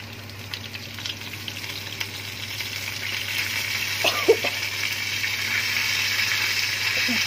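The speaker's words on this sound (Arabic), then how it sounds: "خلاص كده التومه هنا اتحمرت معايا، هاجي بقى انزل الاول بشويه خل كده" Fried garlic sizzles steadily in a pan as vinegar is poured in, a soft continuous crackle with a brief splash and bubbling rising in the middle, fairly quiet throughout.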